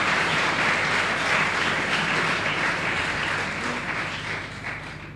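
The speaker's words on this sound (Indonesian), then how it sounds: "Tepuk tangan buat kita semua." A church youth congregation in Nabire applauds during a worship service, a dense, steady wash of clapping from many hands that fades slightly toward the end.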